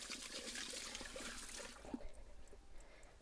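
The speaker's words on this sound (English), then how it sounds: "I'll give the pipe itself just a little bit of flush through as well." Water rushes through a toilet cassette pipe in a loud burst that fades into softer trickling and dribbling over a few seconds.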